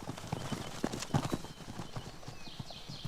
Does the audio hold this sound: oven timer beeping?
no